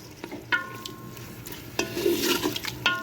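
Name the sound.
meat frying in a pan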